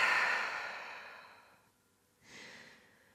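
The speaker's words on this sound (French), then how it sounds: "Et grande expiration par la bouche." A long, breathy exhale through the mouth during yoga breathing fades away slowly, then a softer second breath follows after a brief pause. It is close and quiet, with no talk.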